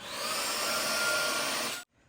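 A vacuum cleaner runs over a heavily shedding dog, a loud, steady broadband whine that cuts off abruptly near the end.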